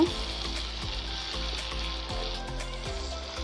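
Cut tomatoes fry in oil in a pan for veg dum biryani, making a continuous close sizzle with a few light, regularly spaced ticks of stirring.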